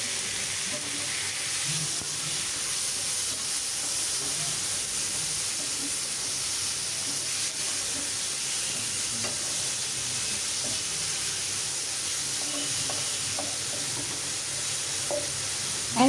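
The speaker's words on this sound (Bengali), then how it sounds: "পেঁয়াজগুলো আমি এরকম করেই ভাজবো। এখন এখানে দিয়ে দিব টমেটো।" Onions and chopped tomatoes fry in a pan with a loud, steady, close sizzle that hisses on without a break for the whole stretch, with no voices over it.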